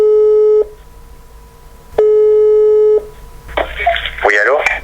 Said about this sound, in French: c'est parti Alexis, j'espère que tu vas décrocher